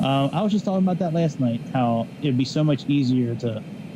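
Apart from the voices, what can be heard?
No distinct noise like a dog, phone or traffic.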